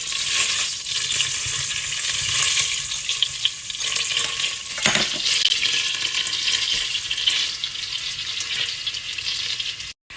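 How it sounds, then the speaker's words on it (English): Onion and garlic frying in melted butter for broccoli cheddar soup, a steady, loud sizzle with occasional scrapes and stirring clatter from the pan, continuous and without talk. "so I'm going to add my onion and garlic"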